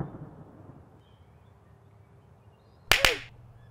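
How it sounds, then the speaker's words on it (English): A thunder sound effect breaks in as a sudden loud double crack with a short rumbling tail after a near-silent stretch, heard alone. "Stop it with the thunder!"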